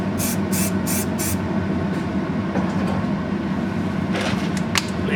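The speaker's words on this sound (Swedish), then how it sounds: "Vi tar vårt spraylim underifrån." An aerosol can of spray adhesive is sprayed from underneath onto a model pine tree in four quick hissing bursts, then more short sprays later over a loud, steady background rumble.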